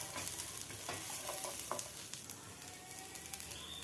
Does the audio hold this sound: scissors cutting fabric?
no